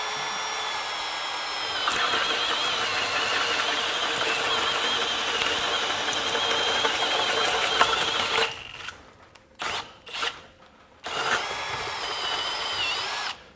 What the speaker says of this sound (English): So we've got this 2 9/16 inch speed bore bit here. So let's watch it do its thing.